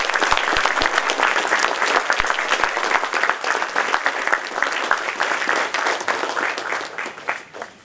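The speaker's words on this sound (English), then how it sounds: "Yet another round of applause for the impeccable and relentless support that the parents have" A graduation crowd gives standing applause for the parents of young architects, a loud, sustained roar of many hands clapping close by that tapers off at the end.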